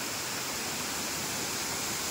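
Fanasache Pani waterfall in a dense forest near Hivale village, rushing in a steady, even roar of falling water with no breaks, loud and close throughout.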